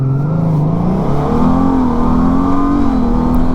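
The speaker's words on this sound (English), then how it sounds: "Take 2 for the Honda Goldwing DCT 0 to 60 test in 3, 2," A Honda Goldwing DCT touring motorcycle accelerates hard in a 0 to 60 run, its engine note climbing and holding loud and close, with a brief shift dip partway through.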